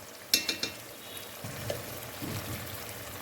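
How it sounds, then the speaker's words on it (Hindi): Spices with red chili, cumin, coriander, garam masala, salt and turmeric frying on a medium flame for an egg kofta gravy, with a few sharp clinks of a spoon and then a soft, steady sizzle while they are stirred nearby. "करेंगे अच्छे से बुनाई मीडियम फ्लेम पे।"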